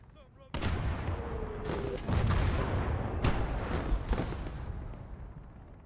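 A handful of loud, booming battlefield shots crack out one after another in a Gates of Hell WWII tank fight, a PIAT anti-tank weapon aimed at a Hetzer tank destroyer, each blast ringing with rumbling echo amid distant fire.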